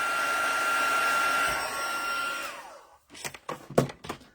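A heat embossing tool blows hot air in a steady, loud whoosh for about two and a half seconds, then cuts off and winds down. Brief clatter and handling noises follow.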